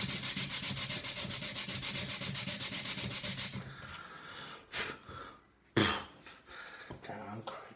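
Hand sanding of wood producing sawdust: about 3.5 seconds of fast, regular back-and-forth rasping strokes, close and steady, followed by scattered scrapes, breaths and handling noises.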